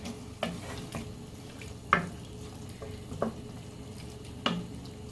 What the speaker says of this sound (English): Just stir it all around, scrape up anything that may have gotten stuck at the bottom.